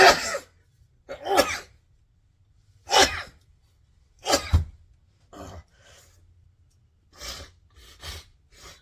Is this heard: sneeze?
yes